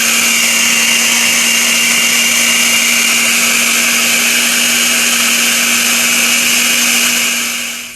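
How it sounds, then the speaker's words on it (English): A kitchen blender blending coconut pieces with about a cup of water, a loud steady motor whir with a strong constant hum, running unbroken until it spins down at the very end. "So far I have blended half of the coconut that I added into the blender with about a cup of water"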